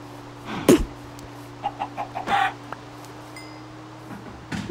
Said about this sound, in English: That chicken was looking at me.